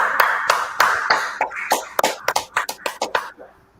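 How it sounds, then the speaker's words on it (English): Sharp hand claps repeat in a quick uneven run, loud and close, with a brief murmur of voices under the first few. "Let's clap it up."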